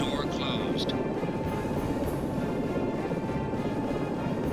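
Continuous low whirring drone of a loaded passenger helicopter in a flight-simulation video game, steady and loud, rotor hum filling the clip.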